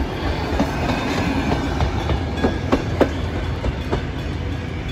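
A diesel train passes close by on the Mornington railway, a loud steady rumble with rhythmic clickety-clack wheel beats over the tracks and no voices.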